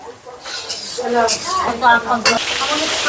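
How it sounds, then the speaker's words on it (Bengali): Cauliflower fries in hot oil in a home kitchen during festival cooking, giving a steady close sizzle with occasional stirring scrapes while a person talks over it. "এখন ফুলকপি ফুলকপি ভাজা চলছে"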